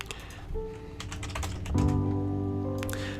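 Quick typing on a computer keyboard, a burst of close, crisp key clicks over a steady background hum, with a louder tonal hum starting partway through.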